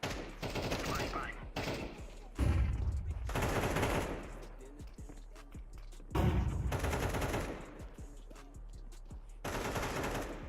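Busy Counter-Strike 2 round full of rapid gunfire bursts and sharp blasts, a flashbang grenade popping amid the loud repeated shots, with heavy low thumps around two and a half and six seconds.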